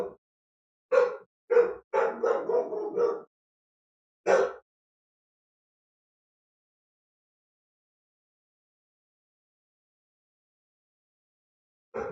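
A dog barks in a quick series of sharp, nearby barks grouped close together, followed by a long silence and one more bark at the end.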